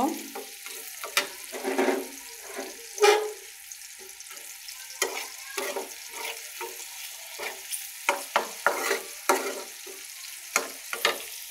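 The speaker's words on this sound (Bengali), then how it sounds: "এই যে দেখো পেঁয়াজগুলা ভাজা হচ্ছে" Chopped onions frying in a pan with garlic, a soft sizzle punctuated by many brisk scraping stirs of a spatula in irregular bursts, close and clear, with no speech.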